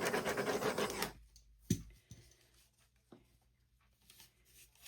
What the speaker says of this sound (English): let's take the heat gun to that.